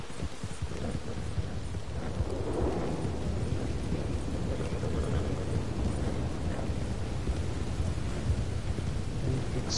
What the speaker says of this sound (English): Big storm rolling in.